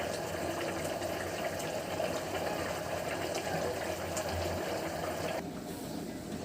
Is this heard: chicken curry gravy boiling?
yes